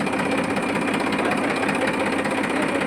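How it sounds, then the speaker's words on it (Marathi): A tractor engine running after a starter motor was fitted, chugging steadily with a rapid, even mechanical pulse, loud and close throughout with no voices. "आता चला आपला ट्रॅक्टर झालाय चालू"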